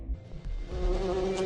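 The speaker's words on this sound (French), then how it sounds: "Mes abeilles me suivent partout." Bees buzzing as a sound effect in a film trailer, a close, steady insect drone that swells in after a few low thumps.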